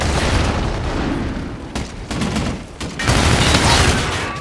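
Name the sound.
shotgun fire in video game Call of Duty Infinite Warfare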